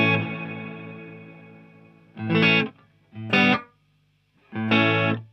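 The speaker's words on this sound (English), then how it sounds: "it's giving me like a chorus kind of sound." Electric guitar through a Neunaber Immerse reverb pedal on its Detune setting, a sustained chord fading with a shimmering chorus-like wash, followed by three separate strummed chords that swell and decay, clear and close with no talking.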